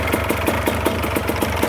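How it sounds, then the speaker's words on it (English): The engine of a Fly Products Premier trike runs loud and close with a steady rapid pulsing throb, an even rhythmic chug heard alone without talking. "I am going to start the engine."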